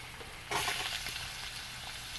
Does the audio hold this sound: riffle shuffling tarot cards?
no